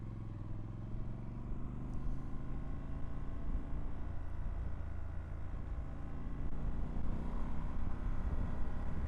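Triumph Scrambler 1200 XC motorcycle engine at highway speed, around 120, a continuous low droning hum with steady harmonics and rushing wind, slowly building slightly louder toward the end.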